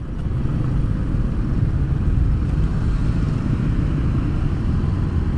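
A Harley-Davidson motorcycle rumbles steadily and loudly from close by, its deep low engine drone holding throughout with no clear rise, and no voices.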